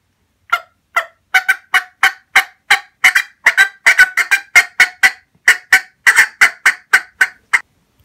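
A hunting call imitates a turkey's cutting call, a loud, fast, irregular string of sharp clucks about two dozen strong, close and alone with no talk.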